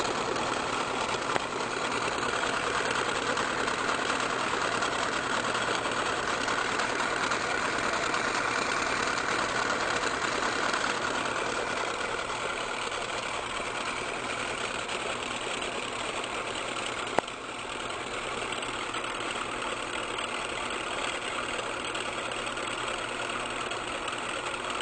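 A small electric motor spins steadily at speed, a continuous mid-pitched hum that holds fairly even throughout, dipping slightly partway, with no voices.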